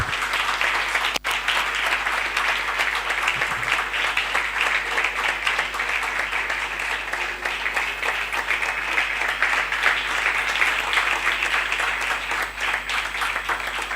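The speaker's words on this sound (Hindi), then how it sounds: "ताली।" An audience at a Bible college convocation gives sustained applause for a graduating student, a loud, even wash of many hands clapping that continues steadily throughout.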